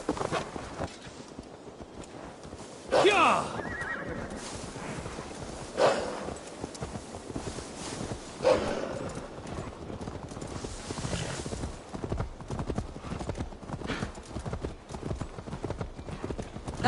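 In Assassin's Creed Valhalla, a horse's hooves clip-clop in a steady walking rhythm, close by. A few louder neighs and snorts break in at intervals.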